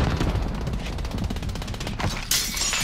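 Automatic gunfire in the shooter Call of Duty Warzone, a rapid loud burst of shots close by with a sharp crack near the end and no one talking.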